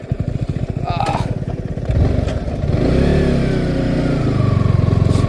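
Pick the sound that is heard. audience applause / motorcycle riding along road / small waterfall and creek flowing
motorcycle riding along road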